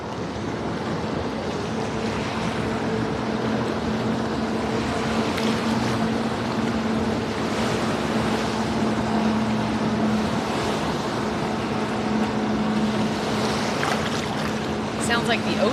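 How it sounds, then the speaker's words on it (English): Steady rushing water and wind noise, like waves and a boat's wake washing past, with a low engine drone underneath. "Sounds like the ocean here."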